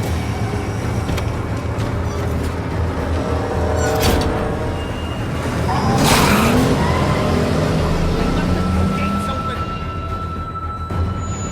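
Steady car engine rumble idles continuously in The Walking Dead: New Frontier, a low drone that swells slightly midway, with voices talking over it.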